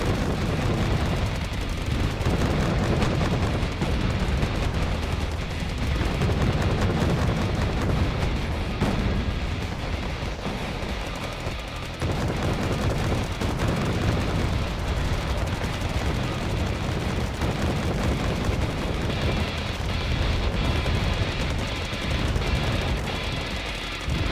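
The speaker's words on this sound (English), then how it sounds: "Pretty good mortar strike for guessing." Mortar shells land in the war strategy game Wargame, heard as a dense run of booming impacts and rumbling detonations. The blasts repeat irregularly and pile on one another at fairly high volume, with no talk over them.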